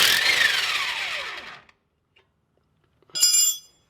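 A burst from an impact wrench loosening rusted brake caliper bolts: a loud, whirring hammering rattle that winds down over about a second and a half, a short pause, then a second, sharper half-second burst.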